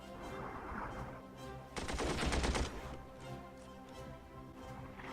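Machine gun fire in the war strategy game Armored Brigade, one dense burst of rapid shots lasting about a second, loud over a low steady background rumble, with no talking.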